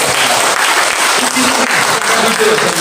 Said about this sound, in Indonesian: Sekali lagi tepuk tangan yang paling keras.